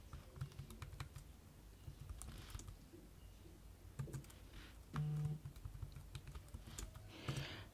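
Someone types a password on a computer keyboard in a quiet room, with soft, faint, irregular key clicks spread over several seconds and a few slightly firmer taps.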